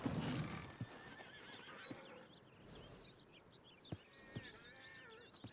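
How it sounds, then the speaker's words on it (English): Horses in Red Dead Redemption 2 whinny and neigh, with scattered hoof clops on the ground and faint background ambience, fairly quiet overall. "Get the horses! Damn horses!"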